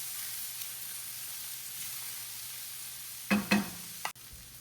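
Mushrooms frying and caramelizing in a pan on lowered heat, a faint steady sizzle with a few sharp clinks of utensils near the end.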